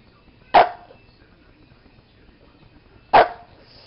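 A pug gives two short, sharp barks a few seconds apart, close and fairly loud against an otherwise quiet room.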